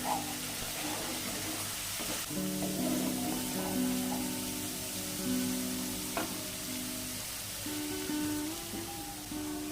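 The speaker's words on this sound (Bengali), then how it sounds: "একটু জল দিয়ে কষতে হবে মশলাটি।" Spice paste for katla kalia frying with a splash of water in a pan: a soft, steady sizzle and bubbling runs throughout, quiet and close, with faint scraping as it is stirred.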